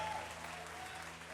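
A church congregation claps in praise, a faint, steady wash of applause over a low sustained musical hum, heard briefly and at a distance.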